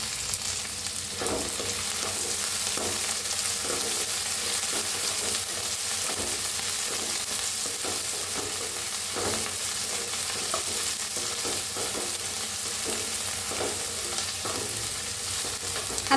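Cabbage manchurian stir-fried in a pan with spring onions, green chillies and coriander makes a continuous loud sizzle, with repeated scraping and tossing strokes throughout and no voices.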